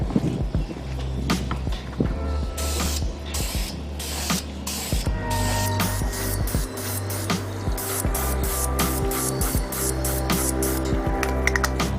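An aerosol can sprays a last coat of matte paint onto a part for a 2017 Subaru Forester XT. The close, loud hiss runs almost continuously, broken by clicking and rattling from the can and nozzle.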